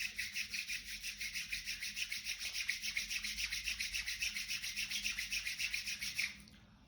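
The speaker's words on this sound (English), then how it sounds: "Rub your palms." Palms rubbing together briskly at the close of a breathing practice, a close, steady, rhythmic swishing for about six seconds that then stops.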